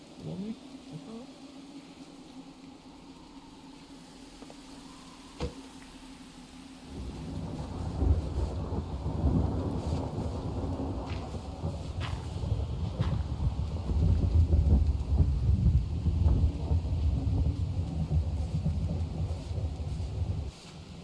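A thunderstorm rolls in: after quiet low rumbling, heavy rain and thunder swell and hold strong, with crackling bursts and a continuous roar that stays loud to the end.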